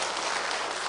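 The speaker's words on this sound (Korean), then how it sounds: "힘차게 격려 박수 한번 쳐드립니다" A church congregation at a women's mission worship service claps briefly, a dense, even patter of many hands heard alone.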